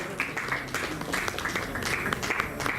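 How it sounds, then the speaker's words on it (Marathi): Applause from an audience at a felicitation ceremony honouring eye surgeons, a steady wash of many hands clapping at moderate distance, continuous for the whole stretch with crisp individual claps standing out. "तेव्हा जोरदार टाळ्या आपण त्यांचं स्वागत करूया"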